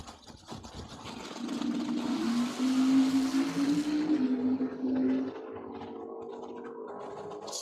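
Drag racing cars, including an Oldsmobile Cutlass, launching on a quarter-mile pass at a dragway, engines roaring to a rising howl in the distance before fading away.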